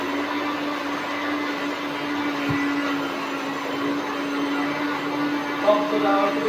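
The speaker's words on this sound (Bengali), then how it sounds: "আরে ভাই পেঁয়াজটা ব্লেন্ড করে দে" An electric kitchen blender whirs steadily while blending onion, a constant close motor drone with a faint click midway and a slight rise near the end, faint voices in the background.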